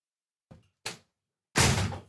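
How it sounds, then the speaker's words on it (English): A door being shut indoors: two soft knocks or thuds in quick succession, then a heavier, louder thunk as it closes, with silence between the sounds and no speech. "Hang on, let me close this door."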